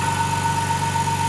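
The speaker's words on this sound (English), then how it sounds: "just to stand to one side and start blowing the air out" An air compressor blower runs as a steady, continuous mechanical hum with a fixed whining tone, used to blow out a hollowed cherry root ball form on a wood lathe.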